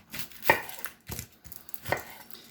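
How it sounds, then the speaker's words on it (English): A knife chops an onion quickly on a board, sounding as about four or five close, distinct thuds in an uneven rhythm, with no speech. "One of the best ways to solve that is to cut them quickly."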